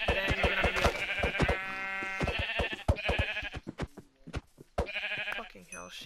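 Minecraft sheep bleat repeatedly in short, wavering calls among game sound effects, with a few bleats spaced across the stretch.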